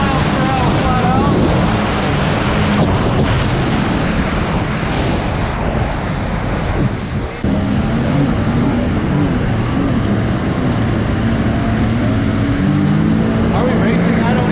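An aluminum jet boat powered by a jetski engine runs flat out at about 45 mph, a loud continuous roar mixed with wind buffeting and water rush that lasts the whole stretch.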